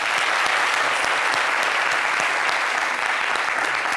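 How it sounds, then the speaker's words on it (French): Studio audience applause on a French-language Ivorian TV talk show, a dense, steady wash of many clapping hands that stays loud and even throughout with no break. "Vous pouvez applaudir."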